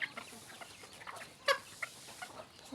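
Chickens in a Thai household yard cluck in scattered short bursts, fairly faint and somewhat distant, with one sharper squawk midway over a quiet background.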